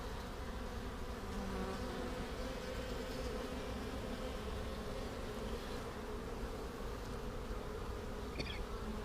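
Honeybees swarm around an open hive during a frame inspection, a dense, continuous buzz that stays fairly close and even throughout, with no voices.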